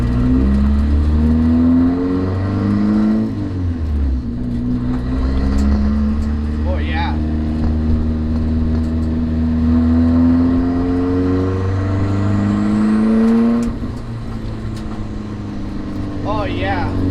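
Nissan S14 car engine on a drive, loud and continuous, with rising and falling harmonic tones as it revs and shifts through gears, a steady drone throughout with brief voice fragments near the middle and end.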